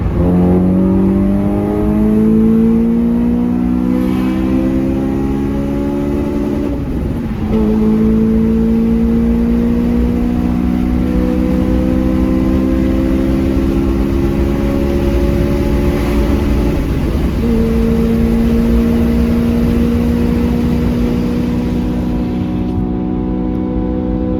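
A Honda Civic Type R FN2 with a remapped engine accelerates hard in third gear on a road with traffic, its rising engine note loud and close, stepping up through repeated climbs with brief dips at each shift.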